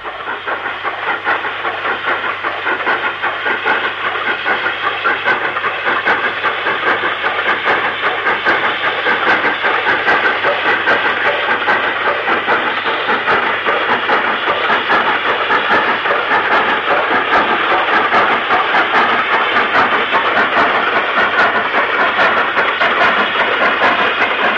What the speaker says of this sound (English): also climbing up to the bridge that carried the line over the Manchester Ship Canal at Acton Grange Junction is Black 5